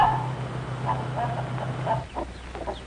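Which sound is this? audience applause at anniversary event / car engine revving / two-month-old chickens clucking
two-month-old chickens clucking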